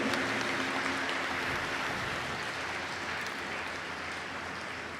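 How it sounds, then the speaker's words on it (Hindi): Audience applause at a Hindi spiritual satsang, a steady dense wash of clapping from a gathered crowd that holds evenly for the whole stretch and fades only slightly toward the end. "तालियों की गड़गड़ाहट कर रहे हैं"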